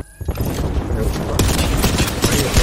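Dense, rapid gunfire bursts from the Apex Legends video game crackle almost continuously for a few seconds, loud and close, with sharp shots layered over a busy game soundscape.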